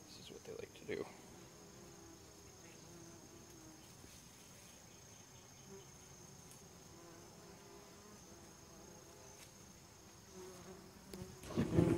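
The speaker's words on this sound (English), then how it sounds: "so that I didn't have all those bumblebees attacking me" Bumblebees buzz around their nest during a relocation, a steady low insect drone running throughout at moderate closeness, with a brief louder burst near the start and a closer, louder flurry at the very end.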